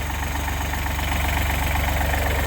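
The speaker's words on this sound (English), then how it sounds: "It's just ticking over at the moment to warm the engine up" A tractor engine idles steadily at close range while warming up, a low, even rumble with a faint rhythmic knock running throughout.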